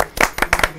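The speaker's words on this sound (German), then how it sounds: "Kurz Applaus für den Anstimmer." A brief burst of a few sharp handclaps from people gathered at a TV cooking competition in a villa, quick and close, lasting under a second.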